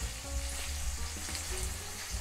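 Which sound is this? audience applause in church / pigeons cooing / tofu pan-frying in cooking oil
tofu pan-frying in cooking oil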